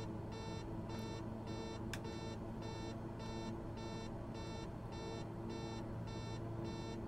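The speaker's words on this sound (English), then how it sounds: "you're going to beep at me because I've not got my gear down" Landing gear warning in a King Air in Microsoft Flight Simulator: a repeating electronic beep pulsing about twice a second over a steady cockpit engine drone, with a faint click partway through and no talking.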